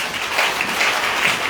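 A church congregation bursts into dense, steady applause, a loud, continuous wash of clapping from many hands, with no talking over it.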